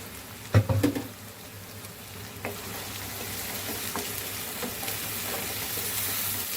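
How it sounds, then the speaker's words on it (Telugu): Country chicken frying in a pan as tomatoes go in: a few sharp clatters at the start, then a steady, fairly quiet sizzle that keeps going. "ఇవన్నీ బాగా వేగిపోయాయి కదండి, ఇప్పుడు టమాటా వేసుకుందాము"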